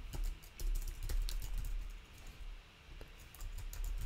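A test message is typed on a computer keyboard in a run of rapid, close key clicks that pause briefly midway before the tapping resumes.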